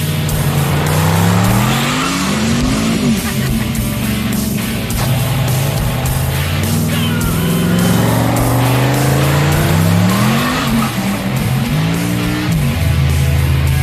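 A 1,000 hp hot rod's engine revs loudly and continuously, rising and falling in pitch as it drives around a building, with tires squealing and skidding through repeated turns.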